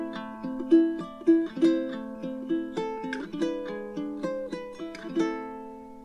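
Fingerstyle ukulele plays a bar of We Three Kings: clear plucked notes and chords ring out one after another at a moderate, unhurried pace, close and solo.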